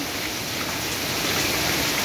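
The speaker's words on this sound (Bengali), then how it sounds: "অনেক জোরে বৃষ্টি নামতে আছে" Heavy night rain pours down over Joypara market in Dohar, a dense, steady roar of water with no breaks, loud and close throughout.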